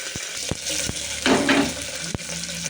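Whole garlic cloves sizzle steadily in hot oil in a pan, close by, with a brief louder hiss in the middle and a few sharp clicks of utensils.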